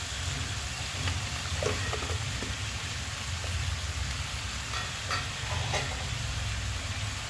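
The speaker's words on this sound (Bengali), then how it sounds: "আলুর মধ্যে একটু লবণ দিয়ে দিচ্ছি আলুটা যাতে তাড়াতাড়ি ভাজা হয়ে যায়" Salted potatoes fry in a pan with a soft, continuous hiss like light rain, broken by occasional faint taps and scrapes of stirring, heard at a modest distance.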